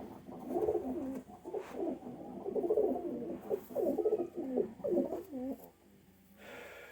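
A large Lakha pigeon coos repeatedly up close, soft throaty warbling calls in a steady series that fade out near the end.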